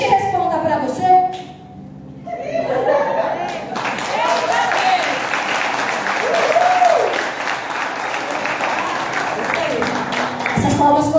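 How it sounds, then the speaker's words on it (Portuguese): Applause from a conference audience at a women's church gathering, a long stretch of steady clapping that rises after a brief lull, with a voice speaking over it at times. "Essas palmas foram para mim, não para Jesus."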